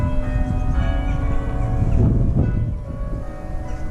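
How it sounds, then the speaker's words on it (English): Church bells ring outdoors at an English church, sustained overlapping peals with a slow swell, mixed with wind noise buffeting the microphone. "we've organised the bells to be rung as well"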